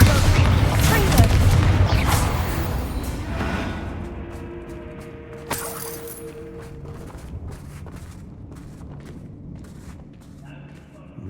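A heavy Bombarda explosion spell in Hogwarts Legacy booms loud and dense at first, then decays into rumbling debris and scattered impacts, with spell effects and a voice over the fading tail.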